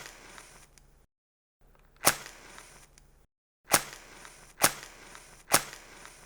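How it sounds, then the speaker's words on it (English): A match is struck and lit, giving sharp scratchy snaps: one, then three more close together, separated by brief silences. The sounds are near and isolated, with no talk. "That is the sound of me lighting a match"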